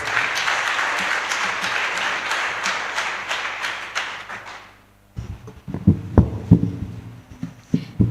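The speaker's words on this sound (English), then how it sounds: "Let's give her a round of applause" Audience applause at a ministerial event handing over community radio studios in Kanyamazane, a steady wash of clapping that fades out, followed by a few scattered louder claps.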